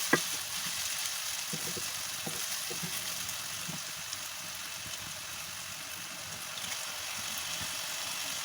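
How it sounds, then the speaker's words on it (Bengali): Drained boiled vegetable chowmein noodles stirred in a pan with a little salt: a continuous soft sizzling hiss with scattered faint scraping taps of the spatula throughout. "ঝাঁঝরিতে ছেঁকে রেখেছিলাম চাউটা, ওটা দিয়ে দিলাম। দিয়ে আমি নাড়ছি।"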